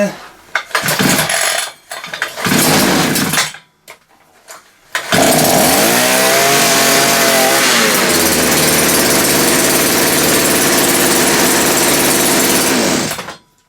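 A cheap petrol combi unit engine is pulled over a few times, then catches and runs loud and steady, its revs rising and settling at a high idle before cutting off.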